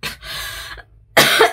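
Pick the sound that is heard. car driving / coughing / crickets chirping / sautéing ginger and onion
coughing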